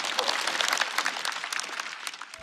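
Sustained audience applause at a stand-up comedy show, dense clapping filling the whole stretch at moderate level with no voices on top.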